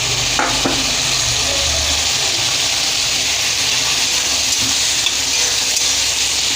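Eggplant pieces fry in spiced oil for a vegetarian soybean and potato curry, giving a loud, steady sizzle with occasional stirring scrapes throughout.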